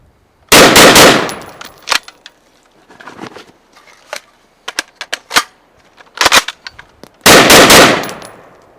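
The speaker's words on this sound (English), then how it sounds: "operate the magazine first, then work the charging handle" Mechanical clacks of an FS2000 rifle being handled, the magazine worked first and then the charging handle, with several sharp loud metallic bursts and scattered smaller clicks spaced across the stretch.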